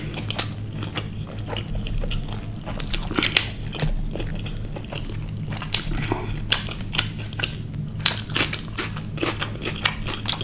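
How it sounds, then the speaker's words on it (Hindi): Chewing a big mouthful of bottle gourd kofta curry with butter naan, close wet mastication with soft squishy bites and occasional crunchy clicks in an irregular rhythm, no talking. "घीये के कोफ्तों को टेस्ट करते हैं। मैंने लिया बड़ी सी बाइट"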